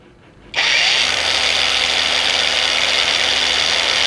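Xenon CDAG1845 cordless angle grinder spinning up at its middle speed setting, a loud steady high whine starting abruptly after a moment of quiet and holding constant, close by.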